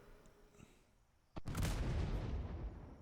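A single distant boom of a naval ship's cannon firing in a Royal Navy roleplay game, a sharp blast followed by a rumbling tail after a quiet lead-in.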